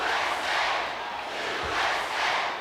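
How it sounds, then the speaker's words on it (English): A capacity arena crowd at a 1993 SummerSlam professional wrestling show, chanting USA in a loud, rhythmic, swelling roar that fills the whole hall and rises and falls in waves. "you can hear this capacity crowd in the background. They've got it. USA, USA."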